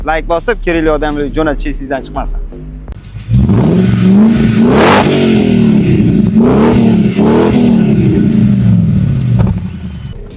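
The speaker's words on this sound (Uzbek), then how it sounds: "Hozir bu mashinamizning ovozini eshitib ko'ramiz." A tuned Range Rover Vogue V8 engine catches and revs hard, rising and falling in several loud, close roaring sweeps after someone speaks briefly.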